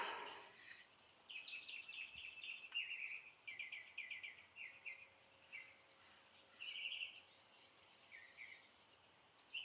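Birds chirp and sing outside a window in repeated short bursts of bright, high trills, moderately close and steady over a faint background, with no talking.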